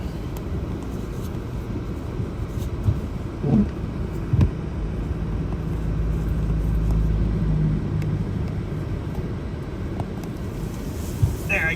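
A car drives through snowy winter weather in Binghamton, its low road rumble and wind noise running steadily, with a few brief knocks and bumps along the way and no talk.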